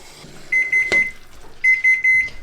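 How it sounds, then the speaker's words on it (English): A kitchen timer goes off while chokecherry jelly is being cooked for canning, sounding two bursts of rapid, high electronic beeps, each a quick run of about four pips, with a short gap between them. "That's my 3-minute timer."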